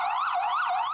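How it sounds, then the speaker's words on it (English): An ambulance siren near a hospital at the centre of a city's COVID-19 crisis, wailing up and down in a steady, loud electronic sweep, close and alone. "ambulances arrive every 10 minutes."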